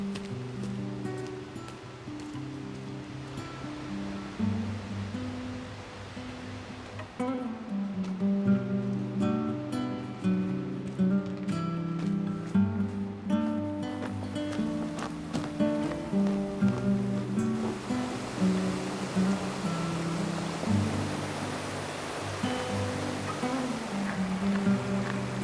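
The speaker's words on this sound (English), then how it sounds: "There it is, guys, Vernal Falls, one of the most popular hikes here and one of my favorite waterfalls in Yosemite." Vernal Falls in Yosemite Valley on a winter hike: steady broadband rushing of falling water, continuous and fairly distant, swelling a little louder partway through with no voices.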